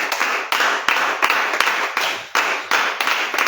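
A church congregation claps in loud, uneven bursts and rhythmic waves, with a bright, dense sound of many hands together and no clear talking.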